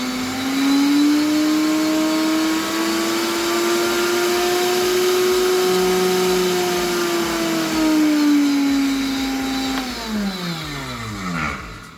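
An Astron heavy-duty ice crushing blender motor whirs steadily at high speed with a strong tonal drone, then winds down and spins to a stop near the end.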